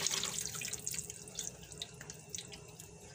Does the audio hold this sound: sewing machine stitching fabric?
no